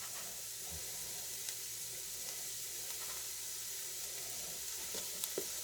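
Onions sweating in a pan give off a gentle, continuous sizzle with soft hissing, punctuated now and then by faint stirring clicks, fairly quiet and heard alone without talk.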